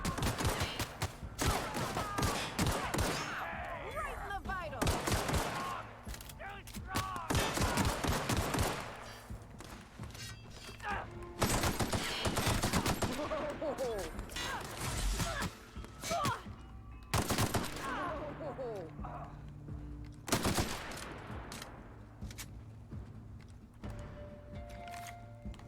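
Repeated bursts of gunfire from the video game The Outer Worlds run for about 26 seconds. The shots come in dense volleys with short lulls between them, loud and close, with occasional voices mixed in.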